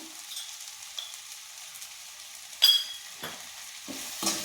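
Tomato frying in a pan with turmeric and chili powder, a soft steady sizzle broken by a few sharp spatula scrapes and stirs near the end.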